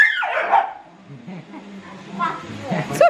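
A dog barks and yips indoors at home during Christmas, with short bursts and a whimpering tone, mixed in with a person talking close by.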